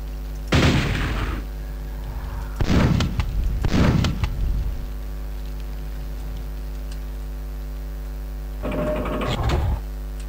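Weapons fire in the first-person shooter Quake comes as three loud, close bursts of shots and impacts early on. After a long quiet stretch with a steady hum, a fourth burst follows.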